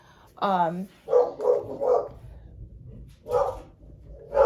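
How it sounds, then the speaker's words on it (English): Several dog barks come in an irregular series, a higher yelp first and then sharper barks, moderately close with faint background noise. "Gosh, I'm sorry for the barking."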